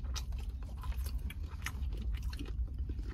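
Crispy, hard-fried chicken wings being bitten and chewed up close, with dense crackling crunches in quick irregular bursts against a quiet background.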